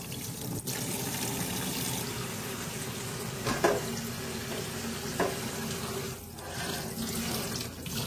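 Tap water runs steadily into a kitchen sink as pieces of koi fish are rinsed one by one for paturi, a continuous close splashing with a few brief clatters partway through.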